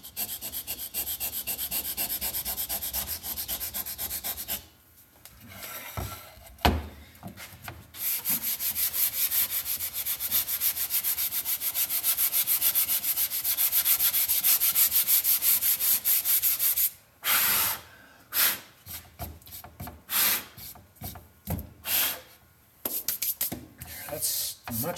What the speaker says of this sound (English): Should probably sand the edges here too.